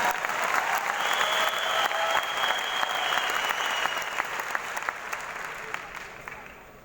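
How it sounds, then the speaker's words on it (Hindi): Audience applause at a Hindi business talk, a dense, sustained wash of clapping from a large crowd that gradually tapers off, with a faint tone and a voice underneath. "एक बार जोरदार तालियां"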